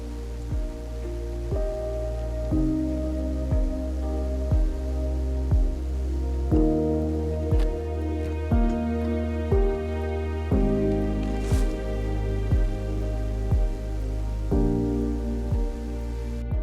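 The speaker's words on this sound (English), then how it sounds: "tired of that rain noise" Steady rain ambience from the video game Wicked Island, a continuous wash of patter running through the whole stretch alongside the game's tonal music, moderately loud with no talking.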